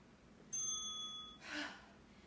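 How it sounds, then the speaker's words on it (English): A workout timer bell rings once, a bright sustained ding that holds for about a second, followed by a brief softer burst of noise in an otherwise quiet room. "At the bell, you get to rest."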